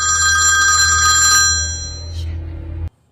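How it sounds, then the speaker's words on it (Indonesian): A telephone rings loudly with a bright, trilling bell tone that fades slightly, then cuts off abruptly into near silence. "telepon ibunya berdering dan si Charlie pun langsung menutup teleponn"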